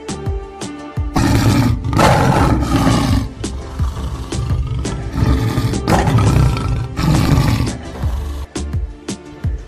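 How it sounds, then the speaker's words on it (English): A lion roars in several loud, deep bursts, each swelling and fading, with a few lower grunting breaths between them, close and with no talk over it. "Lion."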